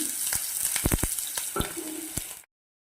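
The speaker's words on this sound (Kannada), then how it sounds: "ಒಂದು ಈರುಳ್ಳಿ ಎಣ್ಣೆಯನ್ನು ಹೆಂಚ್ಕೊಂಡಿರ್ತೇವಲ್ಲ ಅದನ್ನು ಹಾಕಿ ಕೆಂಪಾಗುವಂಗೆ ಹುರ್ಕೋಬೇಕಾಗ್ತೈತಿ" Onion frying in hot oil in a pan, a steady hiss with scattered crackles and stirring clicks, close and fairly loud, stopping abruptly.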